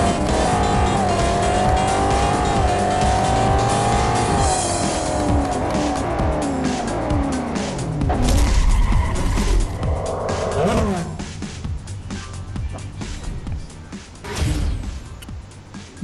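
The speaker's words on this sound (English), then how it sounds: "Yeah, I wrecked the car pretty bad." A Jaguar XE SV Project 8 in the Real Racing 3 racing game roars with a rising, falling engine note and squealing tires, then a harsh broadband crash and skid before the engine drones on.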